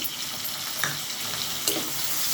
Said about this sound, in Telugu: ఒక 2 నిమిషాలు బాగా ఫ్రై అవ్వాలండి